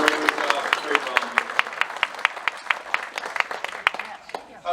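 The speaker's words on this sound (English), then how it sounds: "We give Faye one more round of applause, please." A dinner audience at a Republican club event claps for a speaker, with crisp, fairly regular handclaps ringing out close by and a voice briefly audible at the start before the applause fades.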